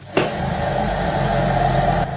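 A Kenmore Elite Pet upright vacuum cleaner kicks on with a sharp click, then its suction motor roars loud and steady at close range, holding a continuous whine until a slight drop near the end.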